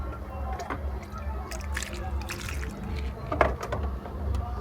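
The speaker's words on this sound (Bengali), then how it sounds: "এবারে পুরো জলে টকটাকে ভিজিয়ে দিলাম" Water is poured to soak the soil of a potted snake plant, giving soft trickling and wet seeping sounds over a steady low background hum, with a faint muffled voice nearby.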